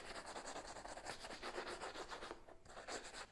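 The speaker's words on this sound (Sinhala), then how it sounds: "ඒ විදිහට අනෙක් ෂූ එකත් පොලිෂ් කරමු." A shoe being brushed and polished with steady, rhythmic rubbing strokes, close and continuous with a brief pause near the end.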